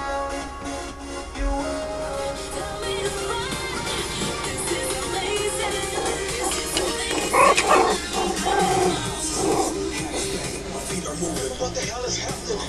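Two- to three-month-old Schipperke puppies play together, giving small yips, barks and whimpers close by amid shuffling, with a person talking throughout.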